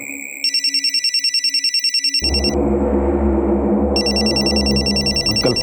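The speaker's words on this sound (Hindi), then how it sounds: "मेरा फोन बज रहा है" A mobile phone rings with a repeating electronic ringtone, pulsing beeps joined partway by a loud musical melody, close and prominent with no talk.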